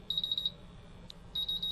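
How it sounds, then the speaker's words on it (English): A MultiRAE gas monitor sounds its alarm buzzer during a bump test, with rapid high-pitched electronic beeps in two short bursts separated by a brief pause. A low hum sits underneath. "What I'm looking for is for all the 4 sensors that are being bump tested to go at least into a low alarm"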